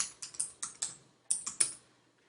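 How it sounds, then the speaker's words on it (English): Typing on a computer keyboard while entering a word in card-design software, about eight crisp key clicks in two quick bursts separated by a short pause, close and fairly quiet with no talk. "use the backspace, and then we'll type the word Christmas"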